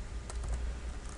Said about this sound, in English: you can just click out of that and just start typing in text and content